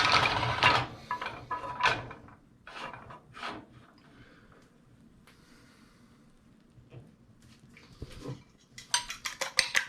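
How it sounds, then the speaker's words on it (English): Food being rolled and beaten around a new pan, heard as irregular scraping, knocking and rattling bursts with quieter gaps in between, growing busier again at the end. "Kind of beat it a little bit more into the pan."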